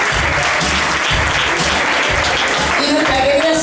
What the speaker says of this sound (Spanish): Un aplauso para este hermoso matrimonio